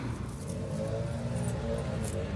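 A bunch of keys jangles in short metallic bursts against a steady engine-like hum, as if handled inside a vehicle.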